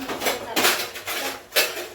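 Kitchen pots and steel vessels clatter close by in quick repeated metallic bangs and scrapes, two or three louder clusters over a busy home kitchen background.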